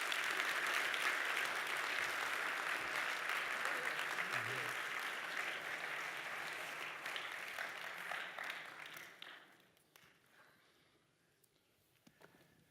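An audience applauds steadily for Rabbi Joseph Telushkin, a broad wash of clapping sustained for several seconds before fading out, with a few scattered claps at the end.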